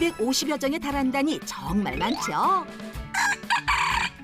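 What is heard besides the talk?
roosters crowing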